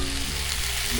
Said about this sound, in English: But you can hear it sizzle.